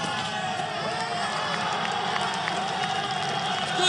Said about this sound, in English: crowd around us are getting excited